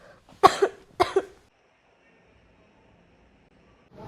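A sick child with a high fever coughs twice in quick succession, two loud, close, harsh bursts, followed by a near-silent room.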